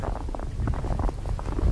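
Wind gusts buffet the microphone while someone walks outdoors over snow and frozen mud in winter, a dense low rumbling roar throughout, with no talk.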